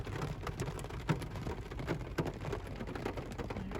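Heavy rain pours steadily onto a tent at a 4WD campsite on Fraser Island, a dense, continuous hiss with scattered louder drops and runoff, close and enveloping with no voices.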